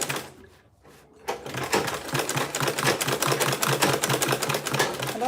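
A sewing machine back stitches fabric with fast, rhythmic mechanical clatter that starts after a brief pause, close by and steady to the end.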